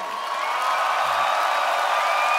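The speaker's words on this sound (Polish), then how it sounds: "wielkie brawa." Festival crowd at Pol'and'Rock 2019 applauding and cheering for Perturbator, a dense, steady wash of clapping and distant shouts from a large open-air audience, sustained and fairly loud throughout.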